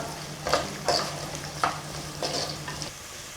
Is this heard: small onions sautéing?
yes